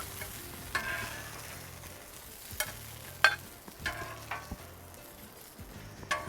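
Sausage fries on a Blackstone griddle with a soft, steady sizzle, broken by occasional scrapes and taps of a spatula, fairly quiet and close with no talking.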